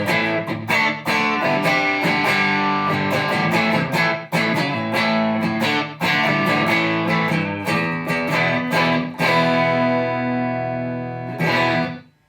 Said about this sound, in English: And with the pedal on.